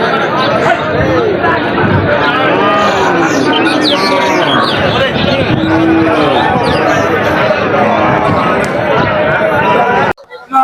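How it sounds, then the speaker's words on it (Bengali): Dense crowd chatter fills a busy cattle market in Mahadevpur, a steady wash of many overlapping voices close around, with no clear animal calls standing out. It runs unbroken and fairly loud, then cuts off abruptly near the end. "বন্ধুরা দেখতেই পাচ্ছেন চারিদিকে শুধু গরু আর গরু, এত মানুষ যে হাঁটায় কষ্ট হয়ে যাচ্ছে।"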